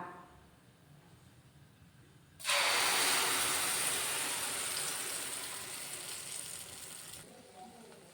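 Chana dal batter hits a hot pan with a sudden loud sizzle that rises sharply, holds for about five seconds, then slowly fades as frying continues.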